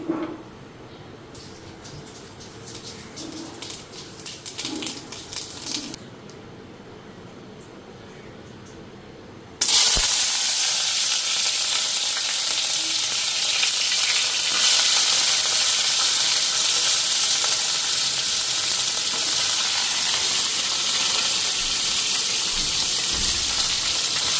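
Nigella seeds (kalo jira) drop into hot oil in a kadai and set off a loud, steady sizzle that fills the second half, after quieter kitchen clatter in the first.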